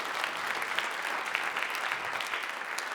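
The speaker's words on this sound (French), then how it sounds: "C'est un tonnerre d'applaudissements, s'il vous plaît, pour l'applaudir." A comedy magic show audience bursts into dense, sustained applause for a volunteer, loud and close, with many hands clapping evenly throughout.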